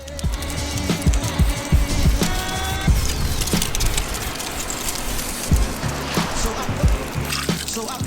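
Degreaser is sprayed onto clutch parts during an Exedy Stage 2 clutch install on a Nissan 350Z, giving a close, wet hiss that comes in uneven bursts with a few clanks, over a constant background.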